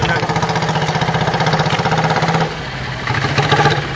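Rumbling, chugging engine of an auto rickshaw loaded with cotton at a rural crop market, a steady pulsing idle with a brief dip midway, close and loud, with voices around it.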